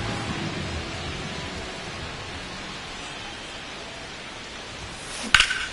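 Rain falling during a game in Denver in the baseball video game MLB The Show 26, a broad steady hiss that fades slightly, then ends in a short sharp burst, no talk.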